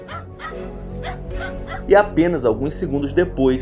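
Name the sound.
dogs barking desperately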